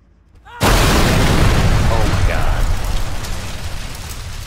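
A repaired Mohawk vehicle in Arma 3 explodes with a sudden loud blast, followed by a long, roaring, crackling rumble that slowly fades while debris and fire keep hissing.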